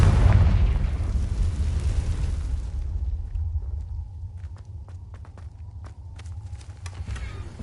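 A Confringo fire spell bursting in the video game Hogwarts Legacy: a loud, booming blast that rumbles and fades over several seconds, followed by scattered small crackles and ticks.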